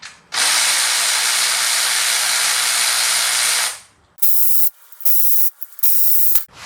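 Loud, steady hiss of welding on steel plate for a Mercedes R107 450SL custom engine cradle, one long continuous burst followed by several shorter crackling bursts separated by brief pauses, close up with no voices.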